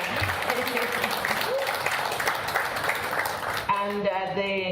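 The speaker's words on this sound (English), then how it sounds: "please join me in giving a big round of applause to Andrew Dembe." Audience applause at a digital health symposium in Africa, a dense steady wash of clapping across the room that gives way near the end to a voice speaking over the fading claps.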